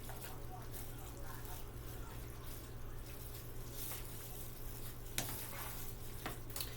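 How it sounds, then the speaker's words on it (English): Creamy rice mixed with cream of chicken being stirred in a pan, a steady soft scraping and gentle sizzle running throughout, close and continuous, with one sharper clink of the utensil near the end. "So we're going to continue to stir this up real good."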